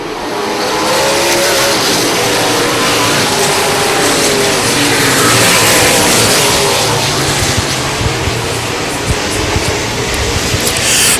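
Race cars roar away at a green flag start, a loud, dense engine wall building as the pack accelerates, continuous from start to finish.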